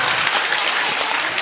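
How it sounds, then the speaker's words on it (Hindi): An audience at a school annual function applauds, a dense, loud patter of many hands clapping continuously over the whole short stretch. "प्लीज तालियां बजाइए ना"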